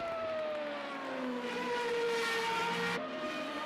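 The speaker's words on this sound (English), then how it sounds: "You can hear his engine." A Formula Renault race car engine in a racing video game at Road America whines at high revs, its tone sliding and shifting through gears steadily for several seconds before cutting off abruptly near the end.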